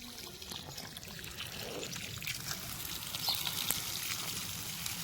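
Water trickles and pours from a hose onto fenugreek plants in a village field on a cold morning, a steady soft splashing stream that grows slightly louder toward the end, with no talking.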